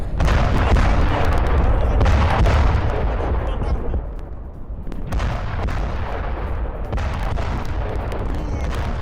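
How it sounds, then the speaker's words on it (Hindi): Explosions and gunfire during an Apache helicopter attack on strategic sites in Caracas, Venezuela; loud, continuous booming blasts and sharp cracks, easing briefly midway before resuming, with no clear voices. "अपाचे की उड़ान के बीच स्ट्रैटेजिक ठिकानों में धमाके हुए"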